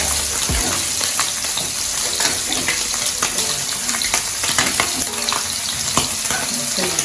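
Vegetables sautéing in a pan for a Jamaican escovitch fish sauce, a steady dense sizzle with occasional stirring scrapes throughout, close and continuous with no voices.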